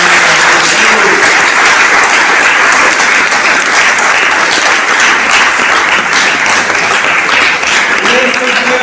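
A congregation at a Spanish-language religious service bursts into loud, sustained applause, dense and close, filling the whole stretch with only faint voices underneath.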